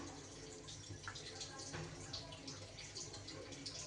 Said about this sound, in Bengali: সেদ্ধ হওয়ার জন্য একটু পরিমাণ মতো জল দিয়ে দেব